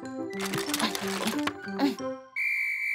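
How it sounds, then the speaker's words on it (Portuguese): Clattering tones and short bursts in a children's cartoon give way to a sustained, shrill whistle blown steadily near the microphone for the final stretch. "isso não é uma tesoura, é um apito."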